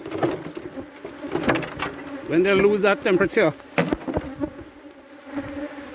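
Honey bees buzzing at a Trinidad apiary while a beekeeper works the hives, a wavering hum running under close, steady talk.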